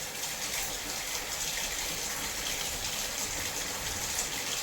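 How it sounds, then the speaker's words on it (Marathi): Water runs steadily from a tap while dishes are scrubbed at a home sink, a continuous close gush with no distinct scrubbing strokes standing out. "आता घासते भांडे."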